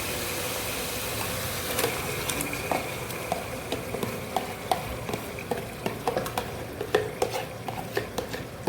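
Spinach is stirred into a frying tomato and potato curry, the pan giving a steady sizzle under repeated light scraping and tapping of a spoon, close and continuous with no talk.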